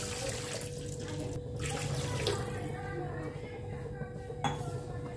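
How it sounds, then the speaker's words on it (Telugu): Water poured into a pan of sautéed vermicelli upma ingredients: a steady rushing pour with occasional metallic clinks, close and continuous. "దీంట్లో వాటర్ పోసుకోవాలి. దీంట్లో సరిపడా వాటర్."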